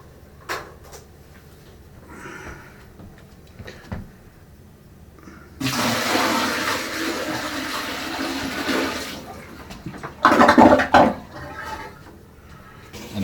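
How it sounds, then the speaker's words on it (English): A toilet flushes after a new wax ring is fitted: a loud rushing swirl of water lasts several seconds, followed by refill gurgling. Quieter clunks come before it and a few knocks after. "So now what we're going to do is a flush test."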